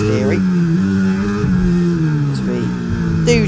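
An F1 racing car engine in the video game F1 23 screams and shifts pitch as it accelerates and changes gear, loud and continuous, with someone talking over it.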